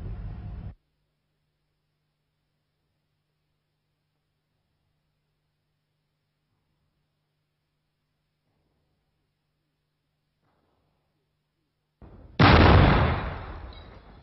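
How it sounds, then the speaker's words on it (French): A single loud experimental firedamp (methane) explosion set off at a coal mine's central rescue station, Fosse 12 at Lens, bursts in abruptly after a long near-silence and decays over a couple of seconds, preceded by a brief earlier noise. "Le Grisou explose à titre expérimental au poste central de secours"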